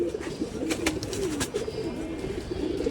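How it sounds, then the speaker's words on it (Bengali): Domestic pigeons coo close by in low, rolling repeated calls over a constant background hiss, with a few short clicks and knocks in between. "কবুতরটা অনেক সুন্দর"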